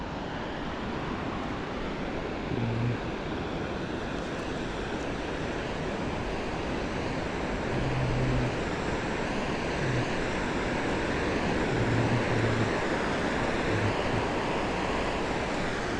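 Sea waves at Harnai beach on the Konkan coast wash in as a continuous broad roar of surf, steady and fairly loud, with slight swells in intensity and faint low gusts of wind over the shoreline.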